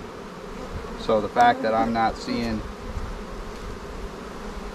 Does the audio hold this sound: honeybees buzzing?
yes